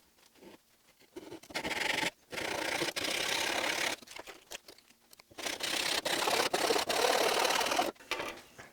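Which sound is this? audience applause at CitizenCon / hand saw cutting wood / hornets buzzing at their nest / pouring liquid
hand saw cutting wood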